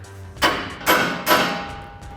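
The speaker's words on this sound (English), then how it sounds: "So I'm gonna take my ball peen hammer here and I'm gonna smack this guy." Three sharp metallic hammer blows, evenly spaced about half a second apart, from a ball peen hammer striking a steering knuckle on a 2019-2023 RAM 1500 during a suspension lift install; each hit rings briefly before fading, close and loud.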